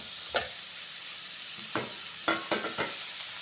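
Ginger and onion sautéing in an old pan normally used for frying papadum, a soft steady sizzle punctuated by four or five scraping stirs of a spoon against the pan.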